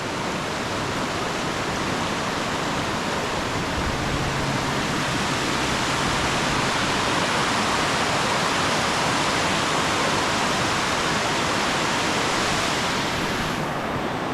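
Mountain stream on Jiri Mountain in South Korea, flowing beside an old bridge and restaurant tables, gives a steady, loud, unbroken rush of water for the whole stretch, with no voices over it.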